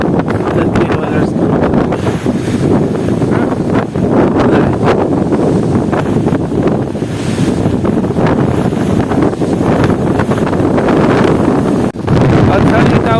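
Strong wind roars continuously into the microphone outdoors in stormy weather, a dense buffeting rush with gusts that swell and dip for the whole stretch.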